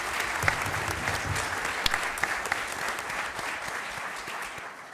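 A crowd applauds the mayors on stage at a roundtable event, with dense, even clapping throughout and a few sharper individual claps standing out.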